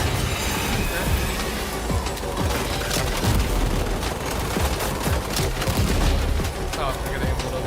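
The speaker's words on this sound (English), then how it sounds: "I can just shoot at them." Rapid gunfire aimed at vehicles in Death Stranding 2 rattles in dense bursts over rumbling engine and movement noise, with a voice talking now and then.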